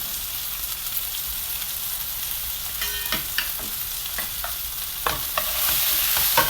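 A small red onion frying in a pan with shimeji mushrooms and vegetables to come, a steady close sizzle broken by light scraping and tapping stirs of a utensil.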